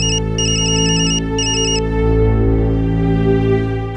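A loud electronic phone ringtone chirps in repeated, rapid bursts for an incoming call over a dense musical background, with the ringing stopping partway through.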